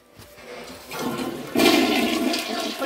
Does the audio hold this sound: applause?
no